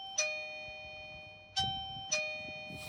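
An Eufy C31/E340 video doorbell indoor chime plays a bright ringing tune of three struck bell notes with lingering sustained tones, close and clear in a quiet room.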